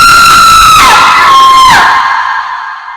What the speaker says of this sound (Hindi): ये तो हमारी बेटी की चीख है।